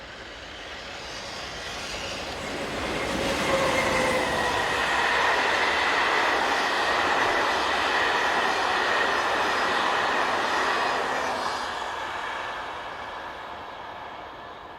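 Class 26 diesel locomotive 26029 pulls away from Tours toward Paris with an early morning departure, its engine roar building and holding steady for several seconds before easing, with a steady rumble of rolling wagons.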